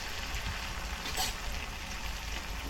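Green chili frying in a pan on low gas for pasta, a soft continuous sizzle with a brief brighter crackle near the middle, close and fairly quiet.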